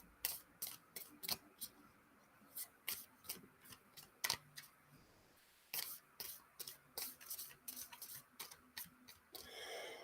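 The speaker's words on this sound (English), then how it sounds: "I shuffle up the major arcana separately." Major arcana cards from the Pulp Tarot deck are shuffled by hand, giving crisp, sharp snaps and flicks in irregular clusters, close and quiet with short pauses between handfuls.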